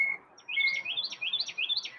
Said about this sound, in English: the birds are chirping up a storm